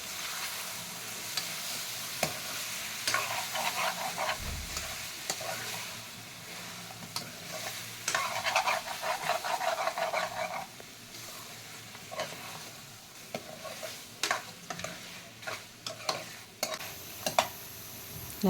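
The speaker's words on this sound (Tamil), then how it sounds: "நல்லா கிளறி விடலாம்." Chicken curry frying in a pan is stirred with a spoon, giving a steady sizzle broken by repeated scraping and clinking strokes at close range, with no talk.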